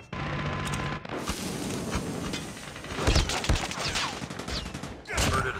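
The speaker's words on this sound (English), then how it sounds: "Hostile sentry gun in your AO." Rapid bursts of automatic fire from a hostile sentry gun crackle in Call of Duty Mobile's Attack of the Undead mode, loud and continuous with heavier thuds near the end.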